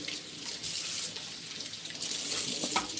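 Kitchen tap water running to rinse while making a green juice: a close, steady stream splashing into a sink, with a few brief surges and no voices.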